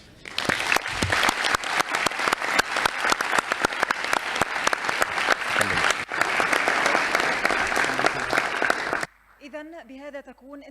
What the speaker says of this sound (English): Applause is now in order.